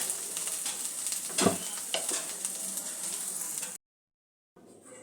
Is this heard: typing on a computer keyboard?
no